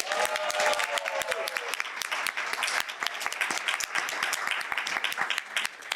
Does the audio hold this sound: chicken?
no